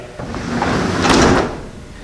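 A pole barn door shutting down onto angle iron: a single close rumbling, scraping slide that swells, peaks and then fades away.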